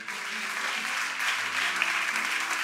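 A church congregation applauds at a French-language seminar service, a steady broadband wash of clapping that holds for the whole span at moderate level, with low hum beneath and no clear voices on top.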